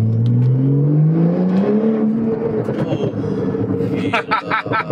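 A Porsche 911 Turbo S Cabriolet engine revs and accelerates, with its pitch climbing steadily over a loud, close roar. Later the note gets rougher and a burst of higher noise comes in near the end.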